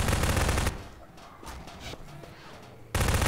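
Gunfire in the co-op shooter Half-Life 2 Synergy: dense bursts of shots open and close the passage, with a quieter stretch of faint scattered noises in between.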